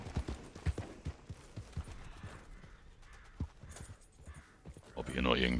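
Horse hooves clip-clop at a steady walking rhythm in Red Dead Redemption 2 Online, a nervous horse under a voice talking over the top, with a louder burst of noise near the end.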